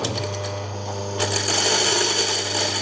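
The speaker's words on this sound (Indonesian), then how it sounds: "Kita coba giling." A coffee grinder grinds beans at a cupping session with a steady, loud, close motor whine that rises slightly in intensity partway through, and no one speaks.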